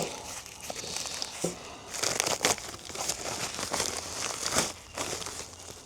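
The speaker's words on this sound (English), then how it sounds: "Just find a spot where I'm not going to cut the hose, just the bag." Plastic bag packaging around a rubber radiator hose for a Ferguson TE20 tractor is cut open, giving steady close crinkling and tearing rustles with a few brief louder rips.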